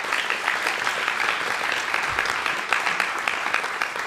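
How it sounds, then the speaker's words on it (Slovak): A big round of applause in a radio studio during a Christmas-time show, with a steady, fairly close clatter of many hands that holds evenly from start to finish. "teda boli, prosím, veľký potlesk"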